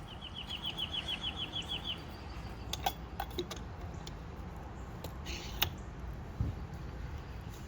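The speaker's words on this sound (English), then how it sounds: "You guys hear these birds?" A quick run of repeated high chirps at the start, then scattered faint tweets and ticks over a constant outdoor hiss; mockingbirds singing.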